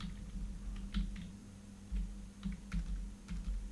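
Quick clattering keystrokes on a computer keyboard, typed in short uneven bursts close by over a low steady hum, with no talking.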